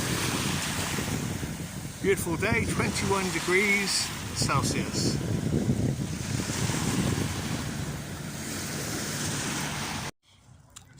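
Ocean waves breaking on shore with steady surf wash and wind buffeting the microphone, while a person speaks briefly over it, before an abrupt cut to near silence.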